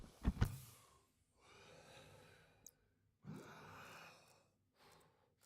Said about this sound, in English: Oh, you hear him gasping away there.